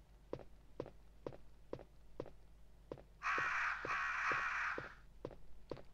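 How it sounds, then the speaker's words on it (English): Crows cawing in the video game Resident Evil, a loud burst of harsh caws lasting a second or two over a steady, evenly paced run of footsteps. "these are like the crows from Resident Evil movies and stuff"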